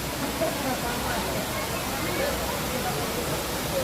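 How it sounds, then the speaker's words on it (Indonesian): Steady broadband rush of the Curug Balong Endah waterfall on Mount Salak, in Halimun Salak National Park near Bogor, a constant dense roar without breaks, fairly loud and even throughout. "Sampai sini aliran curug mulai terdengar dan aliran sungai di sebelah kiri jalur menambah indahnya trekking menuju curug."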